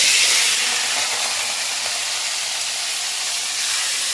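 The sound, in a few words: potato and papaya frying in hot mustard oil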